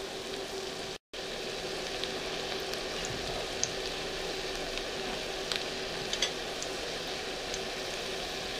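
Cauliflower pieces in batter fry in an uncovered pan, giving a continuous, even hiss with small crackles throughout, heard close and alone.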